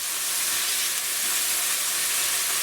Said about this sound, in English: Saute them on low fire Make sure you don't burn them.